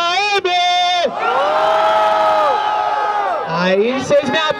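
Audience at a freestyle rap battle in Guarulhos breaks into a loud, sustained roar of cheers and whoops, following a short spoken line and fading toward voices at the end.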